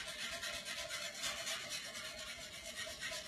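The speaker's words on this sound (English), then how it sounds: "I'm going to switch out my wooden spoon for a whisk. Get the butter really mixed in there." Whisk scraping a pan while mixing butter into a pan sauce, a faint continuous rhythmic rubbing and swishing close by.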